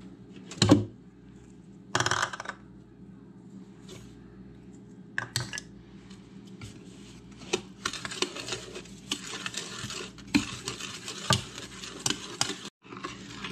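Eggs and sugar stirred by hand in a bowl for pumpkin pie filling, several sharp clinks of utensil on the bowl, then a run of quick close scraping and tapping strokes.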